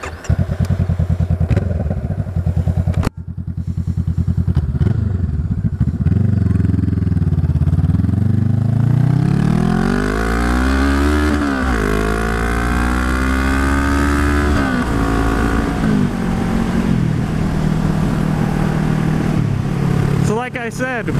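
A motorcycle with a new, loud open aftermarket exhaust rumbles, then revs and accelerates away, engine pitch climbing through the gears, close and dominant throughout.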